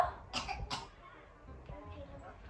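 A child coughs twice in quick succession, close by, followed by quieter indoor rustling and faint voice sounds.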